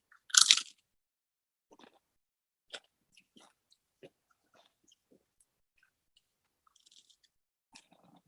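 Fried grasshopper chips are bitten and chewed up close: one loud crisp crunch, then a scatter of quieter crackles and chewing clicks spread across otherwise quiet seconds.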